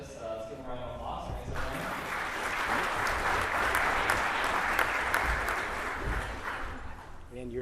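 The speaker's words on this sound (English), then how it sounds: "Let's give them a round of applause." Audience applause for workshop panelists fills the room, a dense, even roar of many hands clapping that builds after a spoken introduction and tapers off near the end.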